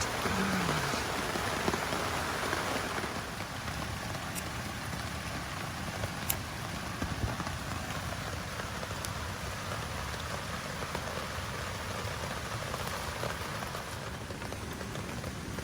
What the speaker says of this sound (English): Still raining, in case you couldn't tell by the noise in the background.